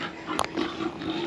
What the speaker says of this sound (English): It sounds like there are some pigs as well.